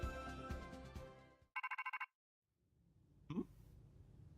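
Rotom phone ringtone from Pokemon Legends Z-A: a bright, loud burst of about seven quick, evenly spaced electronic chirps, set after music and followed by a short silence and a brief swoosh.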